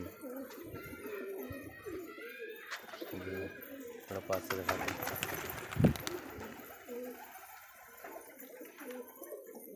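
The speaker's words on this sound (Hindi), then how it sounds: "दोस्तों सुंदर एवं क्वालिटी वाले कबूतर हैं हमारे" Pigeons cooing close by in a loft of fancy, quality pigeons, with soft repeated coos and wing flutters mixed under someone talking in Hindi.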